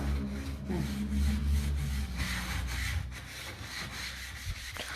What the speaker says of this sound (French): le fait d'utiliser le tampon pro, ça va bien retirer aussi tout ce qu'il y a de surplus de graisse